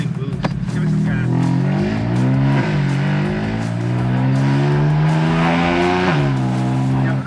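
A BMW F80 M3 with its S55 engine and a suspected boost leak revs and accelerates, its engine note rising and falling in steady sweeps, loud and close from inside the car, with voices over it.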